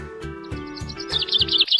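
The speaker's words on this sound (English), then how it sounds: "P is for parrot" A parrot call chirps in short, bright bursts, growing louder toward the end over a bouncy children's alphabet song with steady backing music.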